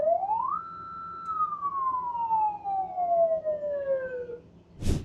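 A bulletproof armored vehicle from AKSUM Group sounds its police-style siren, which sweeps up, holds briefly, then glides slowly downward, loud and close over a low engine rumble, ending with a short broad blast.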